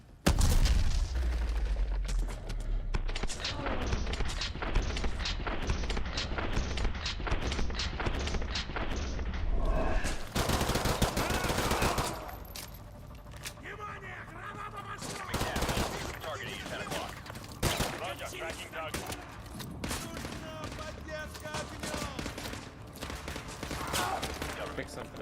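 Rapid, heavy gunfire bursts in Modern Warfare 2 Remastered, loud and dense early on, then scattered shots and thuds amid game noise, with a voice talking at times.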